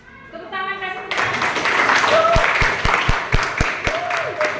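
Schoolchildren in a classroom clap for a classmate's presentation: a dense burst of applause that swells and holds near, after a brief voice at the start, with a few sharp knocks and some voices over the clapping.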